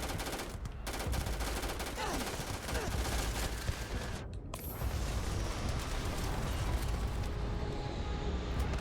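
Gunfire in the space role-playing game Starfield: sustained, fairly quiet bursts of weapon fire and rumbling blasts across several seconds, blended into a dense layer of combat noise with no clear speech.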